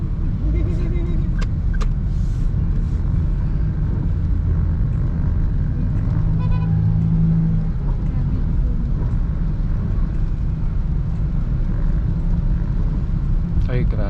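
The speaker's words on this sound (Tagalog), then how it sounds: "Oh, ang traffic ng MacArthur ngayon, oo." Continuous heavy road traffic on MacArthur Highway in Marilao, heard from inside a small car stuck in the flow, a loud steady engine and tyre rumble filling the whole stretch without talk.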